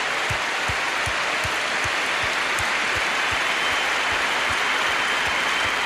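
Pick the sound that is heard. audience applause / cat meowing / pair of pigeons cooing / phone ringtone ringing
audience applause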